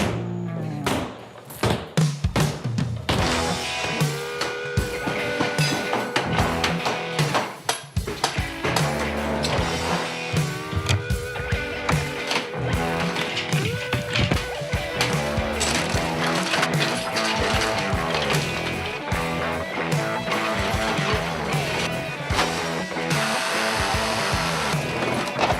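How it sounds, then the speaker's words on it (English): Heavy hammers pound and smash through walls during a house renovation demolition, a dense, continuous run of loud bangs, cracks and crashing debris with no clear pauses. "grab a nice big hammer. Let's do it. Demo's a lot of fun."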